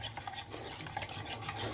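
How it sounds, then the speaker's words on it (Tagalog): Banana heart kinilaw ingredients being mixed together in a bowl, a dense close wet stirring and rubbing sound that runs continuously without pause. "Mix all together lang tayo"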